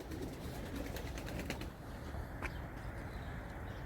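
Pigeons in a loft, including crested birds, give soft low coos over a steady murmur of background noise, with a brief rustle partway through.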